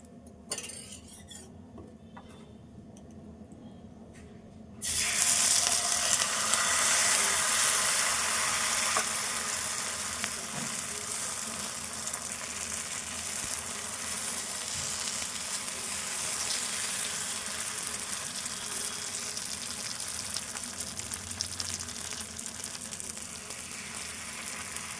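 Rice flour and jaggery pancakes fry in a pan, a loud, steady sizzle that bursts in after a quiet start and keeps crackling evenly throughout.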